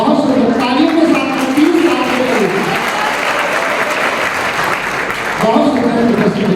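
Sustained applause from a crowd at a school prize ceremony in Agra, thick and even throughout, while a voice talks over the clapping through a sound system.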